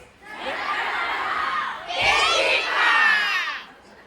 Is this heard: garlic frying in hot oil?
no